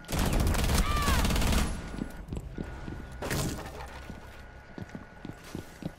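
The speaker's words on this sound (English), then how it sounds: "I'm shooting you now" Gunfire in a Rainbow Six Siege match crackles in a loud rapid burst at first, then breaks into scattered sharper shots and clatter at moderate level, with faint game sounds beneath.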